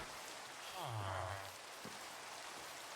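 Steady rain falls in the Minecraft video game, a soft even hiss running throughout at moderate level, with a brief low voice passing through partway.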